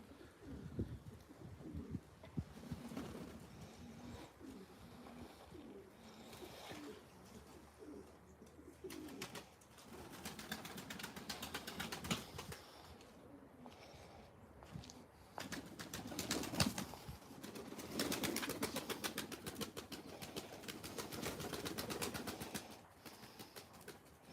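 Live pigeons cooing at a pigeon auction, with repeated soft throaty coos overlapping throughout, faint wing flaps and bird calls mixed in, moderately distant with no speech.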